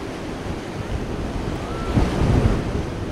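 The swollen Krishna river in Karnataka rushes during a monsoon flood, a continuous broad roar of water with wind buffeting the microphone, building slightly louder toward the end.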